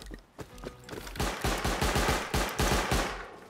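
Rapid bursts of automatic gunfire in the survival game Rust, loud and close, with sharp shots in quick succession and no talk over them.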